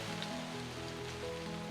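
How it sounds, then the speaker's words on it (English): Steady rain falling outdoors during a bowhunting trip in Mozambique, a continuous hiss with a low tonal hum running underneath. "It keeps raining."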